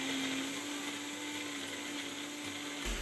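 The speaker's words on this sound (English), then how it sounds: "we'll close up the blender container and blend until everything is well combined" Blender whirring steadily as it blends a frozen drink with ice, a continuous close buzzing whine that runs unbroken and then cuts off at the end.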